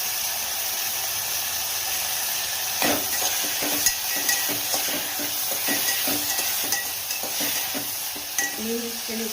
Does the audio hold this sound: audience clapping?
no